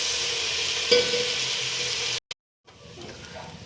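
Sliced onions frying in hot oil give a steady, bright sizzle that cuts out briefly and then returns more softly.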